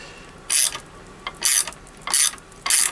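A half-inch ratchet wrench working on the timing case of a Triumph Bonneville T140 engine during a rebuild, four short, crisp bursts of clicking about half a second apart, close and clear.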